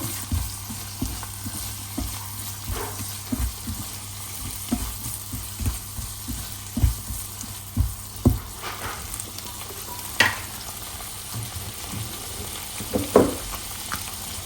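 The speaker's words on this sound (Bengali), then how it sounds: "গ্রিন পেপার বাটারের সাথে গ্রিন পেপার আর অনিয়নটা একটু ভাজবো।" Green pepper and onion fry in butter in a pan, a steady sizzle under repeated scraping and stirring strokes that come in an irregular rhythm, close and moderately loud.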